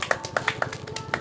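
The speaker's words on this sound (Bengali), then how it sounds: "সবাই হাততালি দাও" A short burst of handclaps in an uneven rhythm, about eight or nine claps in just over a second, fairly faint and unaccompanied by voices, at a Kali Puja stage event.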